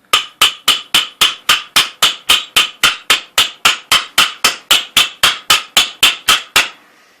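A motorcycle fork oil seal is tapped down into the fork leg, giving about twenty sharp, loud, evenly spaced hammer-like knocks in a steady rhythm, close up with no talking.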